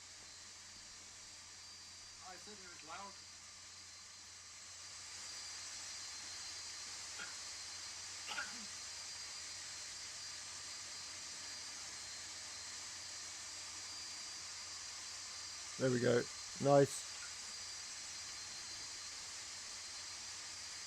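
Jet engine spooling up on a Boeing 747-200 in a flight simulator game, a steady broadband roar and hiss building early and holding throughout, with brief speech bursts over it.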